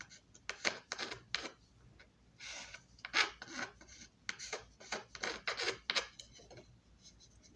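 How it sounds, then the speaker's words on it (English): A rough edge is rubbed off a wooden piece in a workshop, making a series of close, rasping strokes in a steady back-and-forth rhythm with brief pauses. "Just want to take the rough edge off of it for now"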